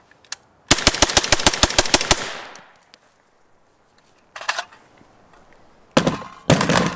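A suppressed 5.56 rifle fitted with a K-Spec bolt carrier group fires a fast, evenly spaced string of ten loud, close shots. Scattered clunks and handling noises follow.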